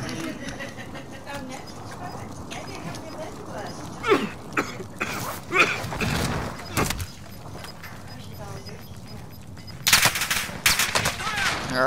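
Gunfire rattles through a Call of Duty Warzone match, bursts of shots popping at mid distance amid game noise, while players talk over the action.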